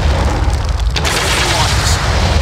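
Troops firing weapons in the video game Armies of Exigo, a dense continuous volley of booming shots and crackling gunfire that stays loud throughout, with no clear gaps between the blasts.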